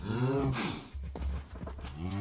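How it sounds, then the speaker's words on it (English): Cows in the Minecraft video game moo repeatedly, several drawn-out lowing calls following one another closely and loudly, with no talk over them. "Look at all these cows."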